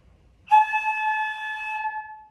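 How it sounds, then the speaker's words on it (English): Flute headjoint sounded on its own by blowing across the embouchure hole, giving a single steady breathy tone that starts abruptly, holds for about one and a half seconds and fades, fairly quiet with no talk. "You blow across the hole right here"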